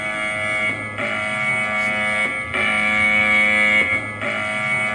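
A steady Taiwanese emergency alert tone repeating in long pulses of stacked harmonic buzzing, each lasting over a second with short gaps, loud and continuous.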